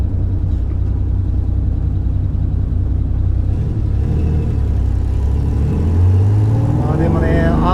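A Porsche 911 with an RSR engine, LeMans-spec 911 T SC RS, idles steadily with a constant low rumble on a Tokyo street, a voice talking over it and a slight rise in engine note near the end.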